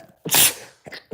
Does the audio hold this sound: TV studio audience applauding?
no